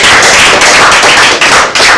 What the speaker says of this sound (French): Bonne chance, merci de l'applaudir.